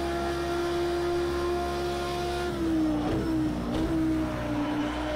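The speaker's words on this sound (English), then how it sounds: "the Audi does sound absolutely fantastic" Audi V10 race car engine from Project CARS 2, at Nürburgring 24 Hours racing, droning at a steady high pitch, then dipping and surging through gear changes with loud revving, alone without talk.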